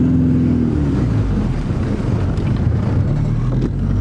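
A Volkswagen Golf GTI MK3 pulls away with a loud, low engine rumble that climbs in pitch as it accelerates. Some wind buffeting mixes in, and no one speaks.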